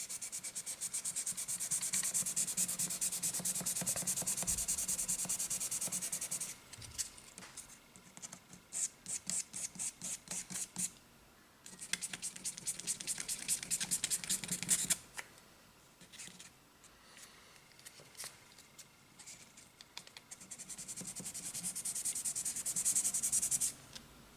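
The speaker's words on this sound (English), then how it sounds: "it doesn't take long for the sandpaper to just touch up the frets here" Sandpaper rubs back and forth over the frets of a 1970s Greco Les Paul Professional guitar, close and steady in long scratchy passes broken by short bursts of quick strokes.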